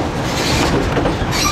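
Train wheels clatter loudly over the rails on a scenic line from British Columbia to Skagway, Alaska, with a continuous rumbling roll and a faint squeal rising near the end.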